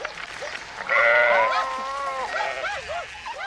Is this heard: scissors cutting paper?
no